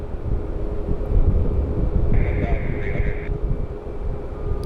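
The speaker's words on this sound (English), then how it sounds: "we got a special livery inbound. JetBlue Flight 1923" A JetBlue airliner in the special Peacock livery, inbound from DCA, arrives at Orlando International Airport as a steady, distant jet roar blended with heavy wind buffeting on the microphone.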